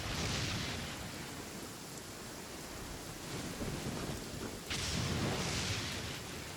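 Thunder rolling during a storm in Genshin Impact, with lightning cracks, broad rumbling swells around the start and a louder burst near the five-second mark over steady rain-like noise, no talk.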